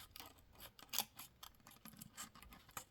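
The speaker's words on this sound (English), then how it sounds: "So I can then just take my scissors and just go round" Scissors snip quietly and closely through thin resin-coated film around a cabochon, making a string of soft, irregular cutting clicks with no talking.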